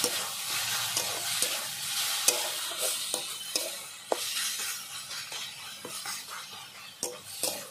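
Saag greens cook in a pan with a soft, continuous sizzle while a utensil stirs them, giving repeated scrapes and light clinks against the metal.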